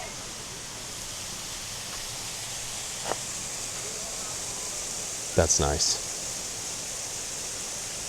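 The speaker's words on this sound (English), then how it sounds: "Oh, there's a couple of waterfalls." Waterfalls in Whatcom Falls city park, Washington, give a steady, even rush of falling water from a distance, with a few soft knocks and a brief voice speaking over it.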